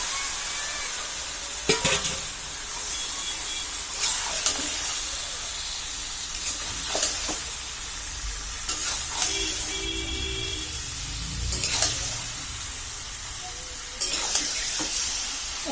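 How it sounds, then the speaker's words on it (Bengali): Chopped chicken meat sizzles and fries in a pan while being stirred, with steady hissing throughout and repeated scraping stir strokes at irregular intervals, close and fairly loud, with no talking. "দিয়ে দিচ্ছি ছাট মাংসটা।"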